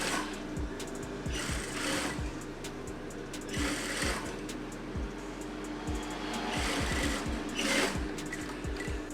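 A sewing machine stitches a layered dress lining in several bursts of rapid mechanical rattling, each running a couple of seconds with short pauses between, close and steady.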